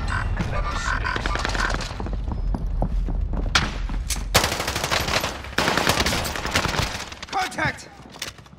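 Gunfire in Call of Duty Warzone Rebirth, with bursts and sharp shots scattered across the stretch, loud and close at times, mixed with game voices and thuds.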